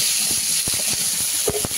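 Greens (pui shak and taro with turmeric and salt) in a hot pan hiss with steady sizzling as a little water hits them, with a few sharper spits and crackles near the end.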